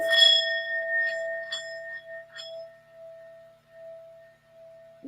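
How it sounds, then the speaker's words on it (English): A Tibetan bell is struck several times in quick succession, then a single clear tone rings on and slowly fades, sustained and alone for several seconds in a quiet room. "My Tibetan bell."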